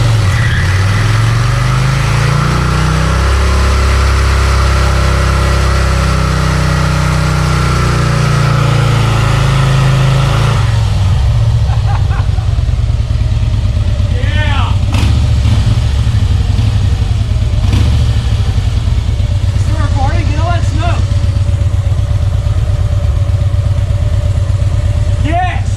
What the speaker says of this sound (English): Can we do a burnout with it, Justin?